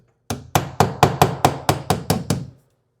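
A hammer taps a wall ten times in a quick, even series of sharp knocks to locate a stud, each tap close and distinct, followed by silence.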